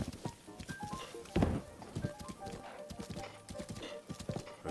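Hooves clip-clop steadily from a horse in the video game Zelda: Breath of the Wild, heading into the Lost Woods, a close, rhythmic trot mixed with game music and a brief heavier thud partway through.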